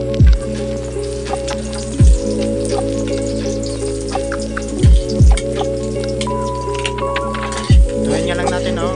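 Garlic fries in a hot pan, a soft sizzle running underneath the whole time, while a cook talks over it and a few sharp low clunks of the pan or utensil break in.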